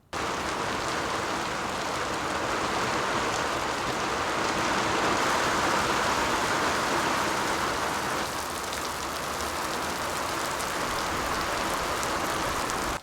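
A passing rain shower outdoors pours down in a steady, loud, broadband patter on nearby surfaces, continuous throughout with slight swells and no voices.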